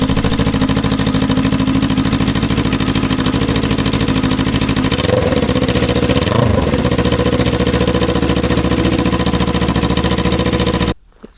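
A Kawasaki Ninja 400 motorcycle with an exhaust leak at the welds runs loud and close, holding a steady drone with two quick revs in the middle before cutting off abruptly at the end.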